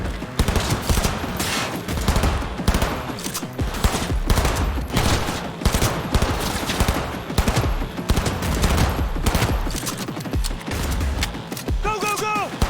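Sustained, dense automatic gunfire from a Cyberpunk 2077 firefight, loud and close, with rapid overlapping bursts and volleys running nearly nonstop, a faint voice now and then underneath.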